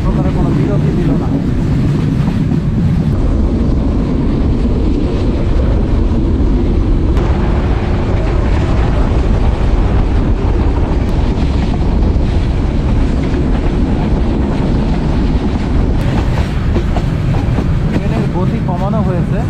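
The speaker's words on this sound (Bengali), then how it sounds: "আব্দুলপুর জাংশনে শুধুমাত্র ট্রেনটি স্লো করে মানে গতি কমিয়ে অতিক্রম করলো" The Kurigram Express rolls slowly through Abdulpur junction in Bangladesh, a loud, continuous rumble with rail clatter and a few sharper metallic knocks that persist the whole time.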